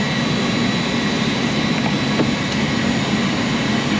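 A car runs on a chassis dyno to warm up its rear end, producing a loud, steady, close engine and drivetrain roar that continues without a break.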